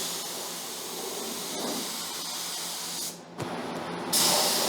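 Spray gun laying down a first coat of paint on a Chevy K10 Square Body truck, a continuous close hiss that dips briefly then resumes louder, with a few words spoken.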